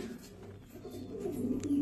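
Male Kalaghun Sefid Kermani pigeons coo, a soft low throaty purring that swells toward the end, close and fairly quiet, with no talking.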